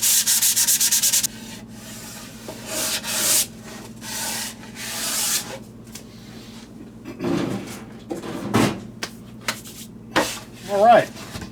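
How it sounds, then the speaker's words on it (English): Hand sanding of a varnished wood finish with fine 220-grit sandpaper: near, rhythmic rubbing strokes in uneven bursts, with a brief louder scrape at the start and quiet pauses between passes. "220 sandpaper, very fine grit. This will help us get any dust out of the finish. Now you don't want to sand all the way through."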